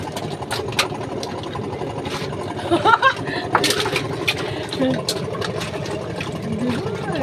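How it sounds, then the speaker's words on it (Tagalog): Small boat motor on an island shore, a low rattling engine running steadily in the background under continuous talk and outdoor noise. "Ay, motor pala. Ayan yung maliit na motor."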